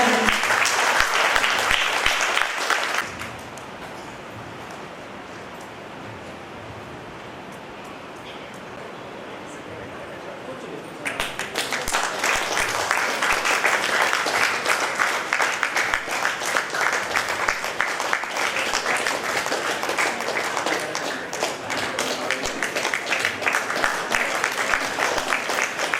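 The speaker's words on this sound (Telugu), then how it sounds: "మీరు ఇవ్వాలి చప్పట్ల సత్కారాలు మన తండ్రి గారు" Audience applause at a church anniversary celebration, loud sustained clapping that drops off into quieter background after a few seconds, then returns as a dense, lively burst and continues to the end.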